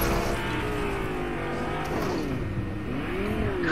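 A car in the Fortnite video game revs and accelerates up a mountain slope, its engine note climbing and dipping in a loud, close, continuous whine with a faint tire squeal, no talking over it.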